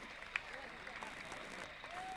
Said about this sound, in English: Let's give that man a round of applause.